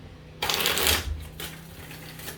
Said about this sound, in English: going to give this 2 more shuffles